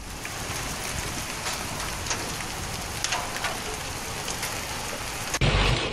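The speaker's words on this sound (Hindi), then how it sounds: "वहीं बेतिया में भी मूसलाधार बारिश हो रही है।" Heavy downpour in a thunderstorm in Bettiya, Bihar, with strong wind, a steady dense hiss of rain on surfaces and faint rumbling, ending in a louder burst near the close.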